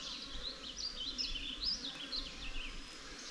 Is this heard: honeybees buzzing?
yes